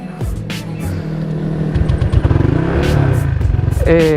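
A custom keyless-ignition Honda Vario 150 scooter starts up and settles into a steady, close engine idle. The note builds toward a rapid pulsing rev near the end.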